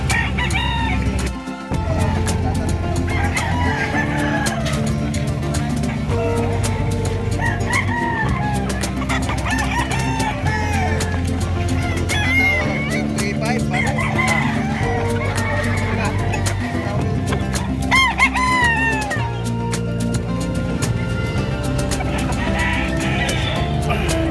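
Roosters crowing and hens clucking over a loud, steady background din at a livestock market in Malasiqui, Philippines, with voices mixed in throughout.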